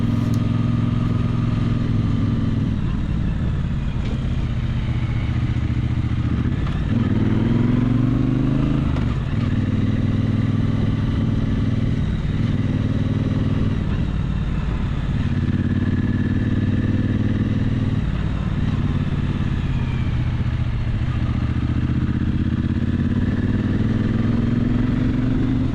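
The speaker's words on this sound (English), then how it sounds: "Here's a good example of a right turn when the sidecar wheel pops up." A motorcycle with a sidecar rides along back roads, its engine a loud continuous drone close by that swells and dips in pitch with repeated throttle changes and shifts, heard without talking.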